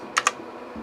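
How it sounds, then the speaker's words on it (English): Two quick keystrokes click on an 83-key Compaq Portable PC keyboard during a key test. They come close together, crisp and near, then the room falls quiet. "Press each key."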